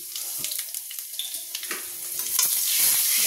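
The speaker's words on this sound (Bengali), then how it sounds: "এটা একটুখানি ভাজা ভাজা হয়ে যায়" Bay leaf, dried chili, panch phoron and asafoetida frying in oil for shukto, a bright crackling sizzle with a few stirring taps, rising into a louder hiss near the end.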